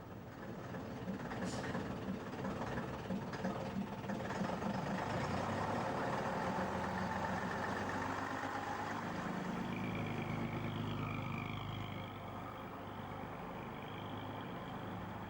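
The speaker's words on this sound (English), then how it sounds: "LAK 309G is a Leyland PD3, new to Bradford in 1969." A 1969 Leyland PD3 double-decker bus with Alexander bodywork, ex-Bradford, sits with its front engine idling in a steady, fairly loud diesel rumble that continues unbroken throughout, with a slight drop in level near the end.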